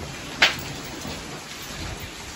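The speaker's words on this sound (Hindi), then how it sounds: "बारिश रुकने वाली है नहीं" Steady rain pouring down outdoors where buffaloes are fed, a constant dense hiss with one sharp drop or crack near the start and no talking.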